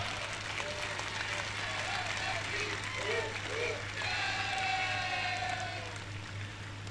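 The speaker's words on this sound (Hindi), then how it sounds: "इस काम के लिए ये तालियां कमजोर है" An audience at an assembly event claps in a steady, even wash of applause while someone speaks over it, with a low electrical hum running underneath.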